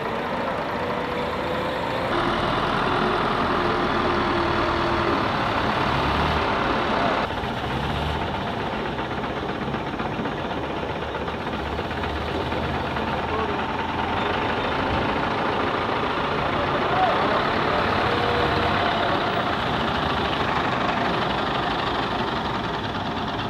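Heavy truck that has just unloaded a girder at a village roadwork site, its diesel engine idling and rumbling steadily before pulling away, a loud, continuous grinding drone with no speech.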